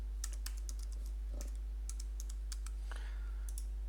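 Keys clatter on a computer keyboard as someone renames a layer in image-editing software: scattered, quiet taps in short bursts against a low steady hum, with no talking.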